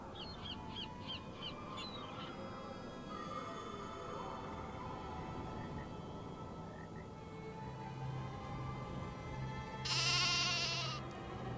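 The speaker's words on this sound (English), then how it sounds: "Yes, sheep, I hear you." Sheep bleating in a Nancy Drew video game set at Castle Malloy, faint and distant among a few bird calls over a quiet game background, with a louder burst near the end.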